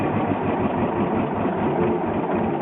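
A John Deere crawler engine runs on steadily after running out of gas, a continuous low rumbling drone close by with no break or obvious drop across the short stretch.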